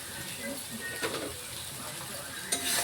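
Spices with a little sugar being stirred and fried in a pan for egg curry: a continuous soft sizzle with scraping stir strokes and a sharper clink near the end.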